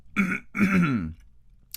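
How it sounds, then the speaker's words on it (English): A person clears their throat twice, a short rasp followed by a longer, deeper one, close and distinct. "So pardon me for clearing my throat."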